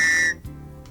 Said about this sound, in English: Signaling devices such as this whistle could be used if you were stranded without help.